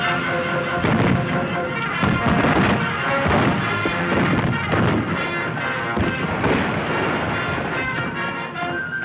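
Gunfire in a 1931 Western film battle at a river crossing, a dense, sustained barrage of loud overlapping shots and booms mixed with a busy music score, continuous and heavy throughout.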